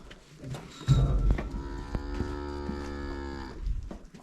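Fattening calves in a barn give a long, loud bellowing moo that swells and holds for a couple of seconds before fading, with muffled barn noise around it and no talking.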